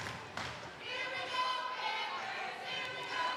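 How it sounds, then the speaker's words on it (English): Crowd cheering and chattering in a gym at a Wakefield vs Beverly high school volleyball match, a steady roar of voices with brief thuds. "All right, we got the crowd going now."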